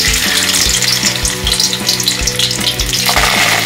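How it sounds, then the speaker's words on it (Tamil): Chopped onions drop into hot oil in a pan and sizzle loudly and continuously, with stirring scrapes adding rhythmic knocks as the frying goes on, no voices over it. "சரிக்கு எல்லா வெங்காயத்தையும் சேர்த்துடலாம்."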